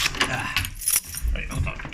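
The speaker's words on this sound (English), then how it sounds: "I can just let the keys swipe." A bunch of keys jangles and clinks as it is swiped one-handed, bright metallic rattles up close with a voice talking over them.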